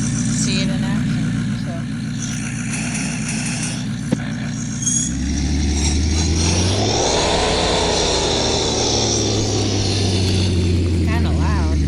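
A truck engine revs in the off-road video game Offroad Outlaws on a desert map, idling low then climbing into a loud sustained rev, with someone talking over it.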